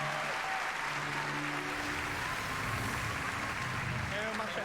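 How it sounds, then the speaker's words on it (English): Steady applause from the Ubisoft E3 2019 presentation audience fills the whole stretch, a dense even wash of clapping with a faint murmur beneath it. "Please give a warm applause to Marc-Alexis Côté"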